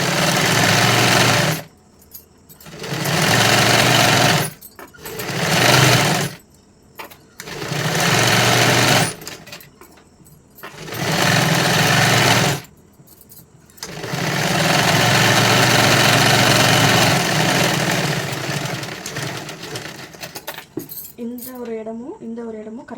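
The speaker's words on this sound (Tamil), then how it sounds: "ஸ்லீவ்ஸும் வந்து நான் டபுள் ஸ்டிச் போட்டுக்கிறேன்." A sewing machine double-stitching the sleeves of a katori blouse runs in loud bursts of several seconds with short pauses between them, up close. A voice talks briefly at the end.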